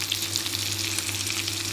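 Enoki mushrooms sizzle steadily in hot oil on a Thai pork grill pan, a close, continuous crackling fry with fine spitting pops and no talking.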